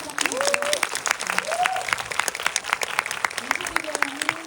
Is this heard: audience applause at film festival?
yes